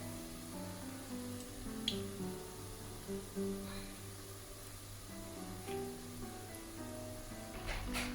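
A steady, crackling sizzle of chicken rolls deep frying in hot oil over medium heat, continuous and even, with a faint low hum underneath.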